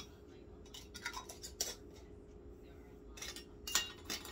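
Hot glass canning jars are handled and their metal lids screwed down, giving sparse close clinks and scrapes of glass and metal, with a soft voice in the background.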